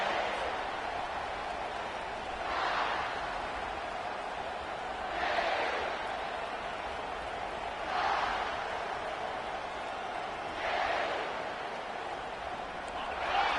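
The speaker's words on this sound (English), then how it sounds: "this crowd is fired up. Listen to this noise here" A packed college football stadium crowd in the video game College Football 25, Clemson vs South Carolina, keeps up a steady roar that swells into louder cheering bursts about every three seconds.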